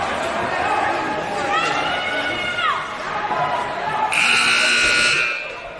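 At an ice hockey game between Lady Wild and Sioux City Black, the arena buzzer blares loudly for about a second near the end, over crowd noise and a commentator talking.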